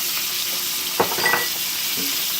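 Fresh mushrooms frying in butter with steak seasoning, a steady close sizzle with a brief clatter of stirring near the middle and no talk.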